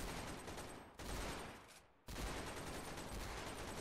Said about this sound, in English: He's firing everything he's got